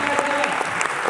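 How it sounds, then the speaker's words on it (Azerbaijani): Audience applause greeting mention of an Azerbaijani inventor behind LCD screens, a steady dense wash of clapping throughout the short clip, with a voice and some crowd noise mixed in. "Gəlin alqışlayaq."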